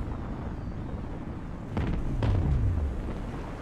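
A ship's reactor blows up in the naval strategy game Forts, a deep rumbling boom that swells out of steady background noise and rolls on for a couple of seconds.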